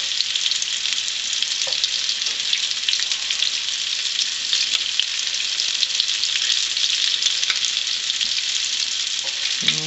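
Pan fish frying in grease with sage, a loud, even, continuous hiss of sizzling oil with small pops scattered throughout, close and with no talk.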